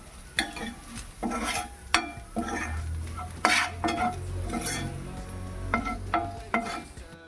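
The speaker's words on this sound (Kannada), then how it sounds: "ಎಣ್ಣೆಯಲ್ಲಿ ಚೆನ್ನಾಗಿ ಫ್ರೈ ಮಾಡ್ಕೋಬೇಕು ಫ್ರೆಂಡ್ಸ್" Spices for an aloo kurma fry in oil with a continuous sizzle, punctuated by repeated loud scraping and clanking strokes of a spatula stirring in the pan.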